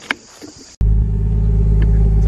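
Engine of a Nissan 180SX car starting up and settling into a loud, steady idle rumble after a brief quiet moment of small interior sounds, running continuously without pause.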